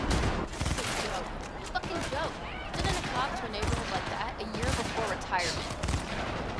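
Gunshots in the Cyberpunk 2077 video game, loud sharp bursts of firing repeating in irregular clusters, with someone talking over the shooting.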